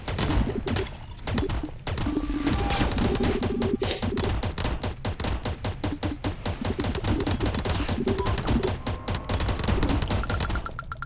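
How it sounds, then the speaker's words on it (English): Rapid, rhythmic chain gun fire from the space game Idle Space Rock Breaker, a dense stream of sharp shots with brief pauses, loud and continuous, with no talking. "Chain gun's insane once we have all this attack speed on top of it."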